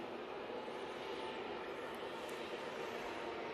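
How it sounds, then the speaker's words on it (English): An Embraer airliner on final approach to land at Manchester Airport, heard as a steady, fairly faint broadband roar that holds evenly without clear peaks. "Embraer about to touch down."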